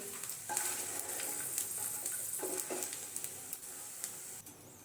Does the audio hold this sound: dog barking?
no